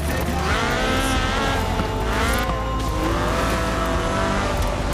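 A Ford RS 1800 rally car in Forza Horizon 4 drives continuously, its engine droning with shifting revs and tire noise, loud and steady throughout with no pauses.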